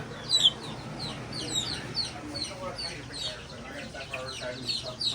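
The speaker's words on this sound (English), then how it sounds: "Jose's giving us some chickens" Chickens cluck and chirp in short, scattered calls over a steady background hum, fairly close, with soft voices murmuring underneath.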